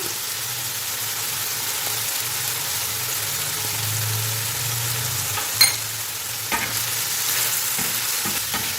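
Chicken liver fries on a hot tawa with garlic, salt and turmeric, giving a steady, even sizzle with a few sharp scrapes and knocks as it is stirred. No one speaks.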